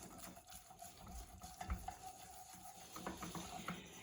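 A spoon works around a pot of heated milk sauce for creamed potatoes, making soft, quiet scraping and swishing strokes with a few low knocks against the pan, in a calm kitchen.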